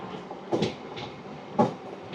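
A MEMU passenger train picking up speed, heard from on board as a steady rumble broken by two louder clanks of the wheels over rail joints.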